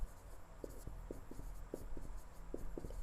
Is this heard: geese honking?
no